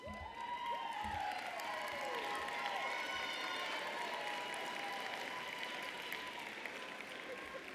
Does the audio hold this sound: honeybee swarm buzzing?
no